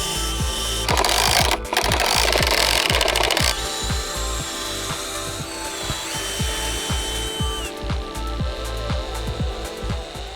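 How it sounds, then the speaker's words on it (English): A power drill drilling holes in a kid's swing set whirs steadily up close, with a rapid ratcheting clatter underneath and a brief harsher grinding burst early on; nobody speaks. "Got a couple holes to drill"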